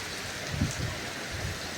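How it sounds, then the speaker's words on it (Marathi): Steady rain hisses evenly on a surface, soft and continuous, with a few faint low bumps underneath. "पाऊस येतोय झाडं वगैरे"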